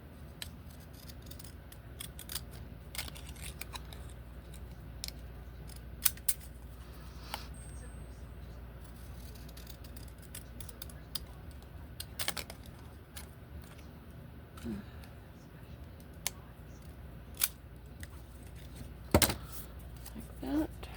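Scissors snip paper for a mini Christmas accordion booklet at a desk, with scattered short sharp cuts and clicks over a quiet background hiss.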